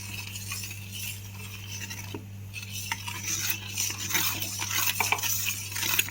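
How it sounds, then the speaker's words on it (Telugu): A spoon stirs cardamom powder into sugar syrup in a pot for Chandrakanthulu sweets, with soft scraping and clinking close up over a steady low hum. "ఇలా ఉండలు రాకుండా నీట్గా పౌడర్ కలుపుకోవాలి"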